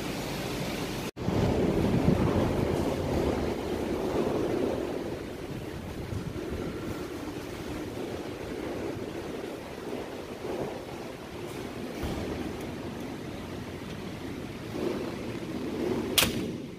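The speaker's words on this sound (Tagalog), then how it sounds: "Lakas ng hangin ah." Strong, steady typhoon wind roars and gusts continuously, with a sharp knock near the start and a brief rattle toward the end.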